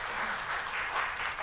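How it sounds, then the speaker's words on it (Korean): Applause from a church congregation during a Sunday worship service, a steady dense wash of many hands clapping at moderate, even loudness, with no talk over it. "우리 힘찬 박수로 한번 격려하겠습니다."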